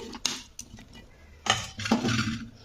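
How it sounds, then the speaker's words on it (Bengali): A metal spatula stirs pumpkin and potato with turmeric and salt in a pot, giving a few sharp scraping clinks and knocks against the metal, close and moderately loud, with short pauses between strokes. "খুন্তি দিয়ে একটু নাড়াচাড়া করে দিচ্ছি"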